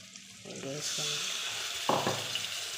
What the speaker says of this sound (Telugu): ఇప్పుడు టమాటా 2 మీడియం సైజ్ టమాటాలు మిక్సీ చేసి వేసుకోవాలి